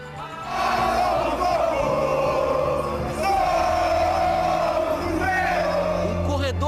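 Football supporters in a packed stadium roar and chant, a loud continuous crowd din with swelling yells, heard from within the stands.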